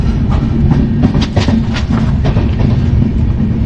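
Kumbh Express train running on the rails in a 3E class coach between Howrah and Dehradun, a loud, steady low rumble with rhythmic clickety-clack beats throughout, no talking.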